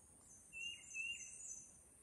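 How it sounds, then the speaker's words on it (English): A faint, thin bird call rises briefly, two short high chirps over a steady hiss of insects in a quiet outdoor setting. "we'll see if we can hear this bird"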